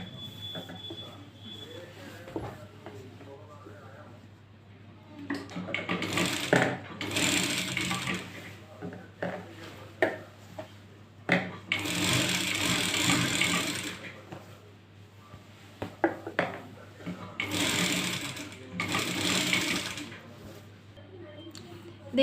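A sewing machine runs in several stitching bursts on a Patiala salwar, each run lasting a couple of seconds with short pauses between, close and fairly loud over a steady low hum.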